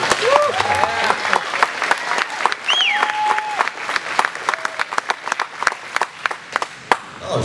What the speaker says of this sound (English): Remember, applause is okay on the opening.